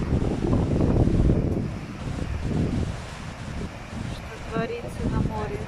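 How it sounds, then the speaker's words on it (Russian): Strong wind rushes across the microphone at a busy summer seaside beach while waves roll in, a steady roaring wash rising and falling, with someone talking over it throughout. "Сегодня ветер, вот какие"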